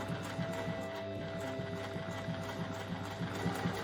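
A sewing machine back tacking at the end of a seam on a mermaid doll, a quiet, steady rapid stitching hum across the short stretch, with no voices.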